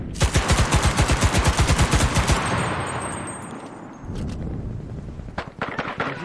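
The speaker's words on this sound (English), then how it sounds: "This is some heavy gunfire" Heavy gunfire in the video game Cuisine Royale: a rapid, loud burst of automatic shots fires in a tight rhythm, then gives way to distant rumbling and scattered later shots.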